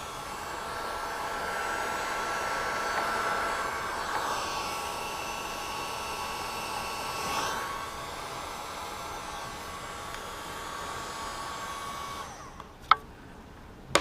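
A heat gun blows steadily on a GM tire pressure monitoring sensor, a close, even rushing hiss that holds for most of the stretch before a couple of sharp clicks at the end.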